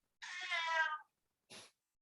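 A house cat meows once in a long, clear, drawn-out call, then gives a second short meow after a brief pause, close by with no talking.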